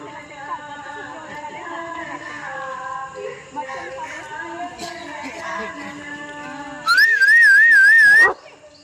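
A stray dog being fed outdoors in the rain whines and whimpers in thin, wavering tones over several seconds. Near the end, a loud, steady, warbling whistle-like tone briefly dominates.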